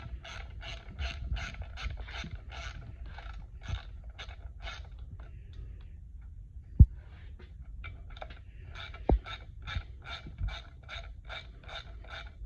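Ratchet wrench clicking in steady rapid bursts while backing out bolts on a Yamaha SHO outboard lower unit during a water pump replacement, close and clear, with a pause midway and a couple of sharp metallic knocks.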